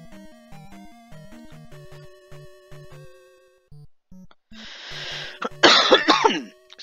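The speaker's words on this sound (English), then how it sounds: "Excuse me, I had a little cough there." A person coughs hard a few times, loud and close, over chiptune music and sound effects from the NES game Zelda II.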